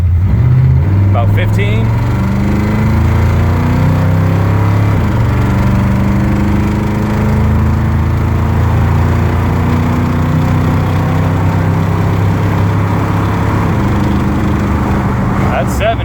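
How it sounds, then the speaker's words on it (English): A 1977 Ford Super Cab two-wheel-drive pickup accelerates at full throttle, its engine droning and rising through several gear changes for a sustained stretch, heard from inside with road rumble underneath and a brief spoken comment. "I'll give you guys a full throttle, let you see how she goes."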